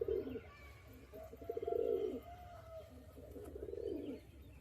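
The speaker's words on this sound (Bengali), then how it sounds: "দেখুন এই পায়রাগুলো" Young pigeons kept in a loft coo softly in several low, rounded phrases at close range, with no talk over them.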